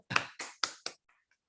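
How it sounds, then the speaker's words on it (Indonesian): An audience at a business presentation gives four separate sharp claps or taps in a quick, slightly uneven rhythm, fairly close, followed by a couple of faint clicks and then quiet. "Yuk, tepuk tangan dulu yuk."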